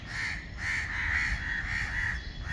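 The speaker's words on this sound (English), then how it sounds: "You can hear the crows in the background" Crows caw from a villa's backyard in Dubai Meadows: a steady chain of repeated harsh calls, moderately loud and fairly close, with no talking.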